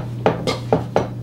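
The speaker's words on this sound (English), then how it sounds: "you just give it a good stir until it all comes together" Soda bread dough stirred in a bowl, giving four distinct scraping knocks of a spoon against the bowl, evenly spaced and close, over a steady low hum.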